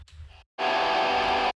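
A distorted lead guitar bend layer from a mix: a brief low rumble, a pause, then a sustained, bright, saturated note held for about a second.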